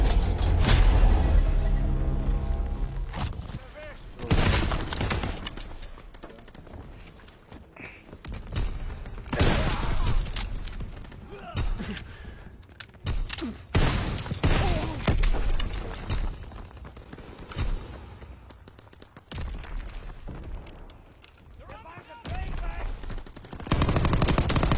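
Grenade explosions and bursts of gunfire from the World War II shooter game Call of Duty WW2 boom and rattle loudly and continuously, with heavy thuds and rapid automatic fire throughout.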